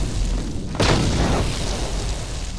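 A grenade blast in the video game Star Wars: Knights of the Old Republic: one sudden, heavy boom with a short rumbling decay, rising out of a low background hum.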